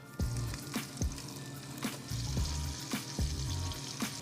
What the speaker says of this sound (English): So now I'll go ahead and just put this bacon in here